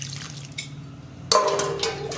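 Water poured from a container into a large batch of gram flour to knead a soft dough for namkeen, a sudden splashing gush after a quieter stretch of light handling sounds, close and fairly loud.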